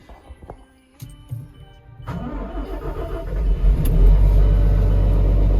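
A work machine's engine starts in the rain: a few clicks and knocks give way to the engine catching, then a loud, deep, steady rumble builds and holds.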